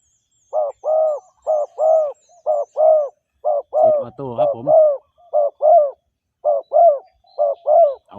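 A dove coos in a steady series of short, close, clear phrases with brief pauses between them, and a burst of rougher calling in the middle.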